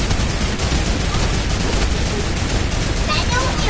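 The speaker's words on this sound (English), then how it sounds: "Yeah, DJ, I'm shooting at you, see?" Rapid bursts of video game gunfire, loud and continuous, as two players shoot at each other in an impostor game, with dense crackling shots running throughout.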